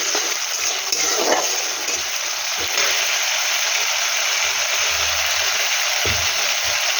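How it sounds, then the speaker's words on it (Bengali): Ginger and onion masala for an egg curry sautés in a pan over medium heat, giving a steady, close sizzling hiss broken by a few soft knocks from stirring. "আঁচটাকে মিডিয়াম রেখে এটা একটু ভালো করে একটু কষিয়ে নেব"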